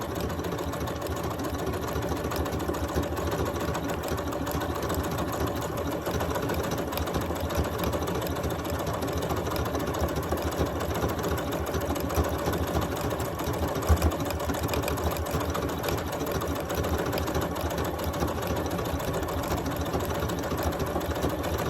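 A sewing machine runs continuously, stitching sample stitches in scrap fabric with a fast, even mechanical whir and clatter that holds steady throughout, close and moderately loud with no talk.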